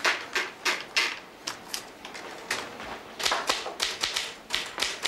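A manual typewriter clatters through a typed list in an office, with rapid irregular keystrokes in bursts and a brief pause midway, close and clear with no talking.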